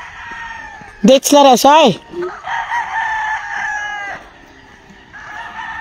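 A rooster crows loudly and close by among a flock of chickens, one strong crow followed by softer clucking and calls, with people talking nearby.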